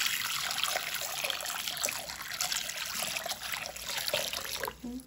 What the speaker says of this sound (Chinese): 再加入多一些的清水